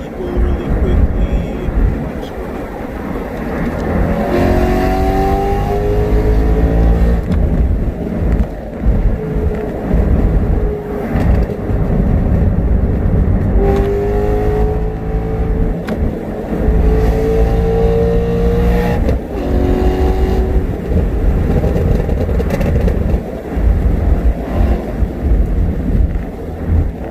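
A BMW E92 M3 with an ACM muffler modification drives past, its exhaust rising and falling through several revving accelerations, a loud, deep rumble with rising whine sweeps over nearly half a minute.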